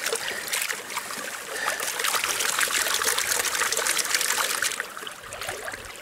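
Water sloshes and trickles close up as sluice box concentrates are panned for gold in a gentle creek, the swirling splash building and easing over a few seconds.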